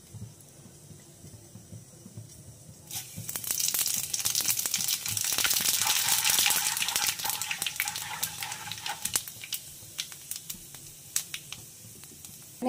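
Panch phoron spices dropped into hot oil, a sudden loud crackling sizzle that swells, holds for several seconds with scattered sharp pops, then gradually thins out, close by and with no talking.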